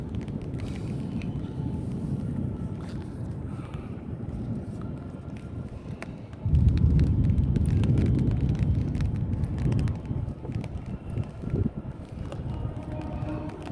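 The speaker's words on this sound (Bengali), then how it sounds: "এই মুহূর্তে দাঁড়িয়ে আমি যে হাওয়াটা অনুভব করছি" Strong wind during a thunderstorm in Kolkata rumbles and buffets the microphone, steady at first and then surging louder and gustier midway through, with no clear speech.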